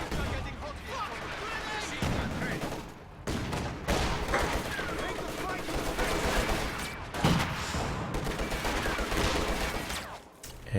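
An MG34 machine gun fires during a Company of Heroes 2 battle, its rattling bursts mixed with other gunfire across a dense, continuous combat soundscape, while a commentator talks over it.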